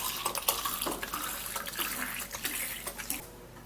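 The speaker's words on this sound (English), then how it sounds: "You put in warm water," Warm water pours into a cup in a steady, splashy stream that runs for a few seconds close up and then tapers off.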